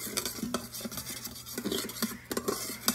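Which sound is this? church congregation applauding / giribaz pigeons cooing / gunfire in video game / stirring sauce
stirring sauce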